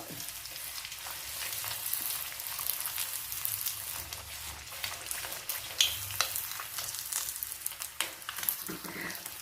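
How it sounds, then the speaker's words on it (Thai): Marinated minced pork wontons fry in hot oil with a continuous soft crackling sizzle, punctuated by light stirring and utensil taps, fairly quiet and with no voices. "แล้วเราก็มาทอด"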